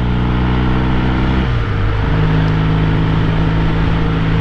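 A 1968 Triumph T120 Bonneville motorcycle being ridden, its engine droning loud and close with a steady harmonic hum that drops briefly as it shifts and then settles at a new steady pitch.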